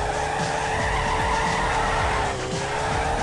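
Tyres screeching continuously as a car drifts in CarX Drift Racing, a loud sustained squeal over a rumbling engine for the full three seconds with no voices.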